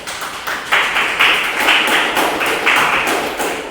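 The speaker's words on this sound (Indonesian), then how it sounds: "kita berikan tepuk tangan untuk kelompok 3" A classroom of students claps for a presenting group, a steady patter of hand claps with rhythmic bursts, fairly close and with no talking over it.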